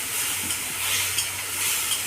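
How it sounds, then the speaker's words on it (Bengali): Green chili and cumin paste frying in a pan, a steady close sizzle with faint stirring scrapes, no voices. "মশলাটাকে আমি হালকা করে কষিয়ে নেব।"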